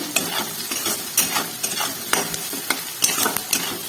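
Onion with salt, turmeric, cumin powder and chili powder fries in a pan, a close, steady sizzle broken by repeated scraping strokes of a spoon stirring the mixture.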